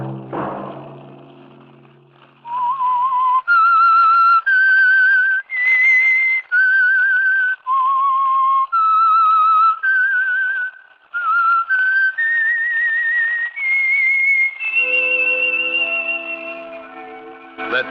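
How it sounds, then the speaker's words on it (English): Theme signal of The Whistler radio drama: a lone, clear, close whistled melody of sustained gliding notes rising across the phrase, with instrumental backing swelling in near the end. "Let that whistle be your signal for the Whistler each Sunday night at this same time."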